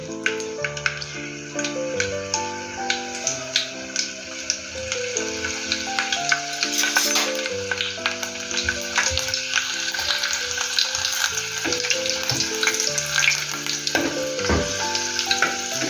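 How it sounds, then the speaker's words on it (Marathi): Garlic cloves fry in hot oil in a Marathi fish curry kitchen, a dense, loud continuous sizzle with crackles, under steady instrumental music. "तेल गरम झालं की लसूण टाकू."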